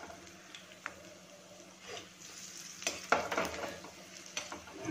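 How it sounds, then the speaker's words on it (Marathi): Prawns fry in hot oil in a pan, a soft sizzle under intermittent scraping and stirring clinks of a utensil, with louder bursts of crackle toward the end and no talking. "हे आपले जे प्रॉन्स आहेत ते आपण दोन्ही साइडने यांना फ्राय करून घेणार आहोत।"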